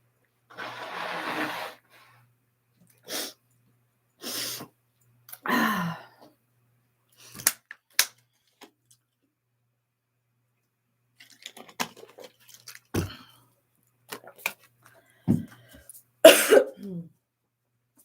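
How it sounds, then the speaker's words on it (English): A series of short, forceful nasal blasts and snorts separated by pauses, close up, along with some sniffing and faint rustling; nobody speaks. "I got to blow my nose."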